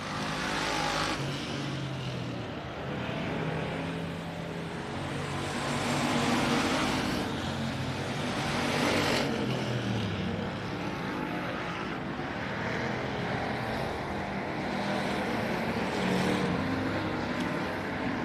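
Factory stock race cars roar past on a dirt oval at Texana Raceway Park during a heat race, a dense, loud engine drone that swells and fades as the pack laps by, with no talk.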